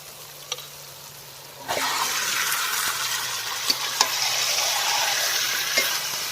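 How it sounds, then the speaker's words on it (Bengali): Chicken pieces tip into a pan of frying spice paste, and the quiet background jumps into a loud, sustained sizzle with intermittent stirring clacks and scrapes against the pan. "এবার মাংসটা ঢেলে দেবো।"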